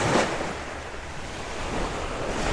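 Continuous sea waves and surf wash close to a beach cottage at Sual, Pangasinan, with a steady broadband roar and some wind buffeting on the microphone. No talk.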